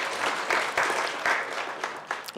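A seated audience at an official green hydrogen project launch bursts into a round of applause, a dense, moderately loud clatter of many hands with uneven swells that taper toward the end.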